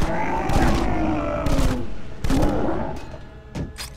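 Afterfall Insanity gunfire comes in several loud bursts of rapid shots separated by short pauses. The last few shots are lighter and more scattered.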